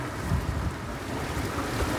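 Steady wind blowing across the microphone at a restaurant in Tanauan, Batangas, a continuous rushing roar with low buffeting gusts, loud and close, with no voices.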